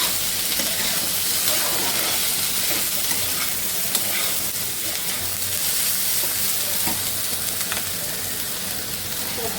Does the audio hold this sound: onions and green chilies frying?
yes